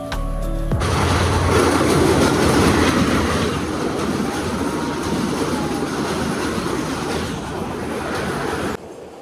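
A train rolls past on a railway line near Mahamaya Lake in Mirsarai, loud and close, with a steady clickety-clack of wheels and faint squeals that hold for several seconds, then cut off abruptly near the end.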